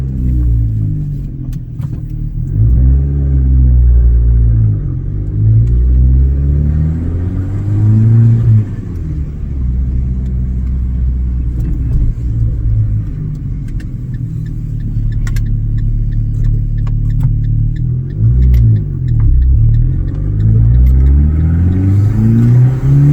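A Fiat 500 Abarth is driven on the road. Its engine is heard from inside the cabin as a loud, continuous rumble that rises and falls as the car accelerates, with no voices over it.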